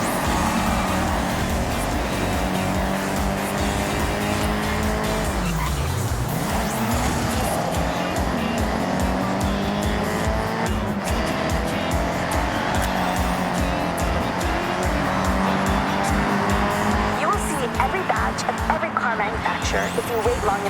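Engines of a convoy of assorted Nissan cars in the video game Forza Horizon 6 drone and rev steadily on a Tokyo-area road, with a swooping pitch change midway, loud and continuous with no pauses.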